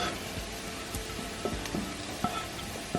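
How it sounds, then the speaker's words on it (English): Vegetables fry in a pot for mushroom barley soup, a soft steady sizzle with faint crackles and a few light clicks of stirring, quiet and close, with no voices. "Let it fry for another 5 minutes."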